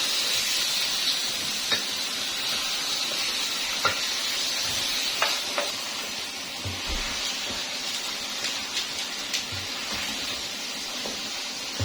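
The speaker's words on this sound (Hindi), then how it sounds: "यहाँ पे मैं चिकन डाल दूंगी। चिकन को 2 से 3 मिनट में भून लूंगी इसमें।" Chicken fries in a pot with softened tomatoes, giving a steady loud sizzle and hiss with occasional stirring clicks and scrapes throughout.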